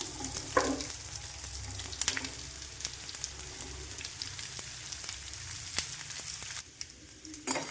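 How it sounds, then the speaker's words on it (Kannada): Diced pumpkin sizzling in a hot oil tempering of broken dried red chillies and curry leaves, a steady close frying hiss with occasional stirring scrapes and no voices. "ಆಮೇಲೆ ಇದು ಹೆಚ್ಚಿಗೆಲ್ಲ ಕುಂಬಳಕಾಯಿ ಹಾಕ್ಕೊತೀನಿ"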